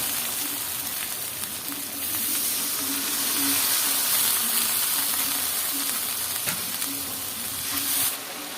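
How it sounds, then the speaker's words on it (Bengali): Spice paste for chicken curry, with turmeric and coriander powder, sizzles and spits steadily in a hot pan, a continuous bright frying hiss with occasional stirring scrapes. "আজকে চিকেন কষা রান্না হবে সে কারণে মশলাও খুব ভালো করে কষায় নিচ্ছি"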